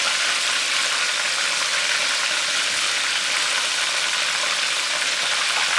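Oysters deep frying in hot oil give a steady, even hiss and crackle that holds unchanged from start to finish, close up and with no voices.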